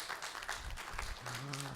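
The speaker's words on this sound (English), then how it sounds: "Give her a round of applause." Audience applause at the end of a wellness talk, soft, brief clapping from a room of listeners, with a short voice near the end.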